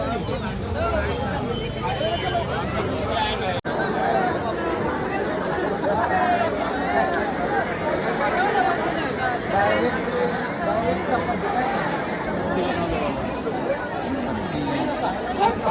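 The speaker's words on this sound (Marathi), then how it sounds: "एवढी गर्दी बघा" Dense crowd at the Mandai Ganpati festival in Pune, a continuous babble of many voices close and far, with scattered traffic hum underneath throughout.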